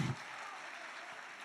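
A church congregation applauds during a sermon: a steady, full round of clapping from many people, sustained and moderately loud after a brief low thump at the start.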